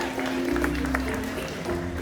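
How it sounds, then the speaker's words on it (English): A crowd at an outdoor Disney's Animal Kingdom show applauds a volunteer picked from the audience, a steady wash of clapping beneath a constant background hum, moderately loud and even throughout. "Let's give a round of applause for our rocketeer."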